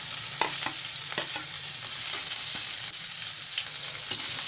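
Onion with dried red chilli and bay leaf frying in oil for Bihari-style aloo kumhrauri, a constant close sizzle broken by repeated scraping strokes of a spatula against the pan, with no talking.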